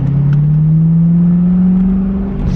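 A Corvette driven with its roof off on a freezing winter day, the engine droning loud and close as it accelerates, its pitch rising smoothly over a few seconds with no talking.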